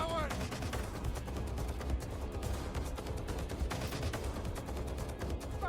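Dense, sustained gunfire in the open-world shooter Watch Dogs Legion, a steady mix of many shots and bursts at close range, with a voice talking over the din.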